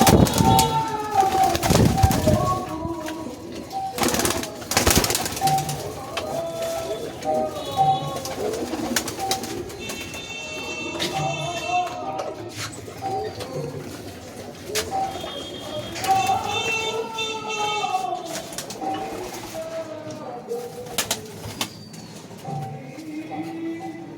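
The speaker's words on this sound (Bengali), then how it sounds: "দাদা পায়রা বিক্রি করে, অনেক পায়রা আছে দাদার কাছে" Giribaj pigeons in a breeding loft give repeated soft cooing calls at close range, with someone talking over them and some brief loud knocks and flaps.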